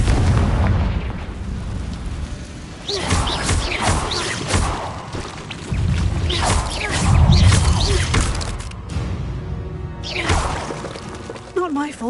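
A Confringo blasting curse goes off in a Harry Potter video game, a loud booming burst followed by crackling debris, with further explosive bursts and in-game speech over a dense, rumbling background.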